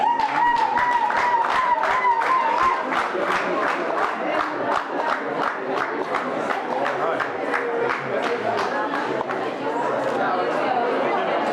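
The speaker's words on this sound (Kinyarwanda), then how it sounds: "Tubamere amashyi." A crowd at a Rwandan civil wedding ceremony claps in a steady, rhythmic beat for over ten seconds, loud and close, with voices chattering and calling out over the clapping.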